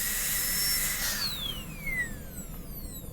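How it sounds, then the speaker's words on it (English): High-speed dental bur drilling into a molar during a Class II preparation, a thin whining tone sliding downward in pitch, steady and close, with no talk. "Put the burr against the lingual wall, make sure it's vertical, position it where I want to axially, drill a hole"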